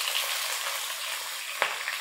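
Onions fry in hot oil for Hyderabadi chicken yakhni pulao, giving a soft, even sizzle throughout with a single small pop.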